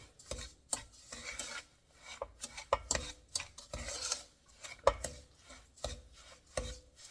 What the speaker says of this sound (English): you're going to mix this as well